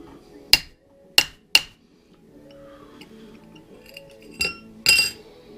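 A hammer strikes a punch against metal parts during a 1997 Evo engine rebuild, three sharp ringing metallic clinks in quick succession, then two more after a pause, with faint handling noise between.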